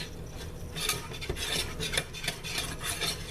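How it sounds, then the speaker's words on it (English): Cajun seasoning and parsley flakes being stirred together in a bowl, producing a run of soft scraping and light clinking strokes at close range, with no talking. "I'm just gonna mix this together like that."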